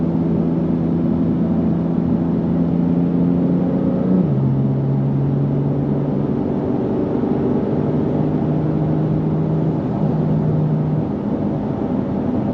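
A modded 700 hp 2025 Porsche 911 Turbo S in Sport Plus mode drives through traffic, its engine a steady, continuous drone that drops in pitch midway as it shifts or eases off, heard from inside the cabin without talk.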